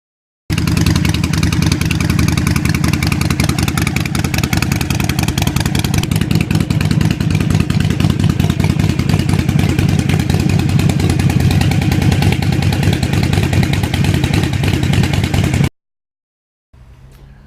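Harley-Davidson motorcycles, a 1200 Sportster and a V-Rod, drag racing: a loud, continuous, rumbling engine roar under hard acceleration that holds steady for about fifteen seconds, then cuts off abruptly, followed by a brief quieter tail.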